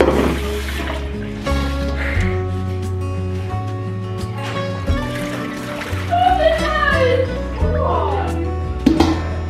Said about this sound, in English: Now we can wash them in cold water